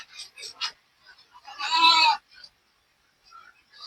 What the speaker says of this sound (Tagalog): So, ayan yung iba naming kambing.